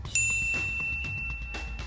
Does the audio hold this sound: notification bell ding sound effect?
yes